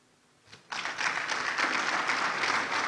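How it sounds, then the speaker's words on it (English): Audience applause at an eLearning international conference right after a memorandum of understanding signing is announced: a brief lone clap, then sustained dense clapping from the crowd that holds steady to the end. "I think you have to clap more."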